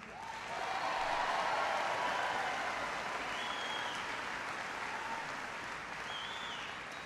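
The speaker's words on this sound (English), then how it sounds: "Please, a big round of applause for your Attorney General, Jerry Brown." Sustained audience applause at a political town hall in Los Angeles, a dense even wash of clapping that swells quickly, holds steady and fades only slightly across the whole stretch, with no talk over it.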